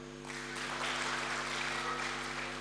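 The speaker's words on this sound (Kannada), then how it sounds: "ಚಪ್ಪಾಳೆ" Audience at a Kannada stand-up comedy show breaks into a short, moderately loud burst of clapping that swells quickly and holds steady, with a faint hum underneath.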